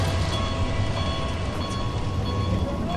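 A battery- or track-powered garden railroad model locomotive runs along outdoor track, giving a steady, continuous rumbling hum with faint rail clatter, fairly close and unbroken, with no talking over it.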